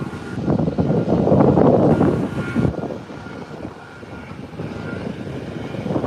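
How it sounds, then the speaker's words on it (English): A United Airlines airliner passes at an island airport, a broad engine roar that swells loudly for about two and a half seconds, then fades into a quieter, steady rumble. "Here is the United Airline. Flies into Newark, New Jersey."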